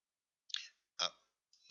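Computer mouse clicking while selecting items in PowerPoint 2013: three short, sharp clicks spaced roughly half a second apart, close and fairly quiet, with no talking.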